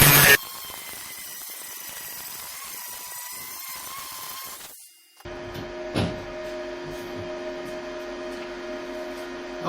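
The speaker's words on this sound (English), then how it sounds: "I'm going to go at it with a flapper disc." A worn flapper disc on a grinder works the door of a 1976 BMW 2002, a steady high whirring grind that cuts out briefly midway, then resumes as a harsher, rougher drone with a sharp bite at the restart.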